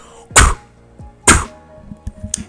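A beatboxer imitates a sub snare with a hard, cough-like K. Two loud, sharp bursts come about a second apart, followed by a few softer, quicker mouth clicks.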